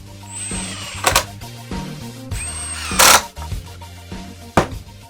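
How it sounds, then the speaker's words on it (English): A power drill drives 1 1/4 inch coarse threaded screws into a wooden window bench in repeated short bursts of whirring, each burst ending in a sharp grinding bite as a screw seats, with brief pauses between them. "Use 1 1/4 inch coarse threaded screws."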